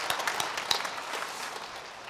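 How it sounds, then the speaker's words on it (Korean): A church congregation claps to welcome a newly registered member during Sunday worship, a faint, distant patter of scattered hands that thins out and fades. "박수로 환영하도록 하겠습니다"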